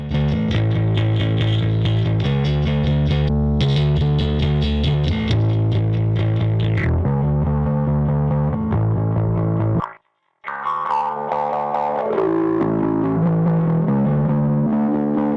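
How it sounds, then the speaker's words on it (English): A synthesizer playing chords and melodic lines with a gritty, warm tube distortion, loud and continuous except for a brief silence partway through. "the amount of tube distortion that's applied to the signal"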